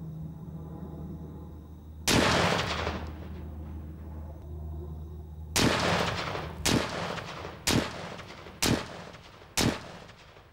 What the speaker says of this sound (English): The first six shots damage the front of the wall, but only one shot penetrates on the mortar course.